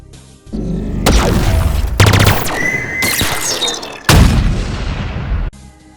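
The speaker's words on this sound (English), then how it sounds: "I think this one is almost definitely a Banshee firing." Banshee aircraft from Halo Infinite firing: loud, dense blasts and booming bursts with whining squeals, several volleys filling most of the clip with a sharp cutoff near the end.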